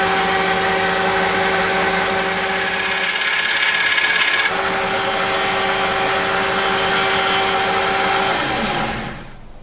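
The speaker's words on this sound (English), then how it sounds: "I've just finished sharpening up the blades." Power sharpening of handmade knife blades gives a loud, steady motor whine with grinding that shifts pitch partway through, then winds down as the machine stops.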